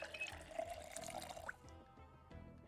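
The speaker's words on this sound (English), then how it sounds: "Fill that water bottle." Water running into a bottle in the game Project Zomboid, a faint trickling pour that gurgles for about a second and a half, then fades to quiet dripping.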